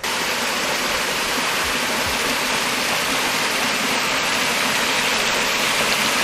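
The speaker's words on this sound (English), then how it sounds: "High banks make for some pretty cascades." Steady rushing water of the Sepulga River pours over cascades, a loud continuous broadband roar with no voices, constant throughout.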